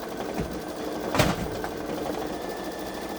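A Babylock Solaris Vision embroidery machine stitches quietly, a soft continuous mechanical whir with a brief louder tap partway through, heard alone at a moderate distance.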